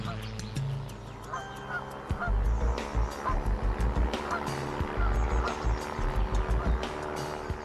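A flock of geese honks repeatedly, close and loud, with a steady rhythmic run of calls building over a low mechanical drone, likely an ultralight aircraft engine, while guiding the birds on their migration path.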